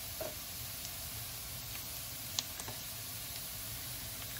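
Chopped onion and crushed garlic fry in a pan with a soft, steady sizzle and hiss, punctuated by a few faint utensil clicks as they are stirred, quiet and without speech.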